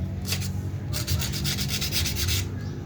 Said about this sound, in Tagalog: Lihain din natin yan para mawala na yung kalawang.